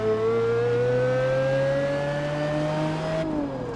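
Pagani Zonda sports car engine in Test Drive Unlimited 2 revving up in one smooth, loud, high-pitched climb, then abruptly cut off. No voices.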